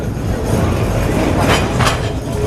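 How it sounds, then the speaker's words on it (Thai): A Lisbon tram climbs along narrow street rails between buildings and houses, giving a loud, steady rolling rumble with metallic clatter and brief wheel-screech bursts close by. "รถรางของเราเคลื่อนออกแล้วครับ ไต่ไปตามทางแคบๆสองข้างทางจะเป็นตึกเป็นบ้าน"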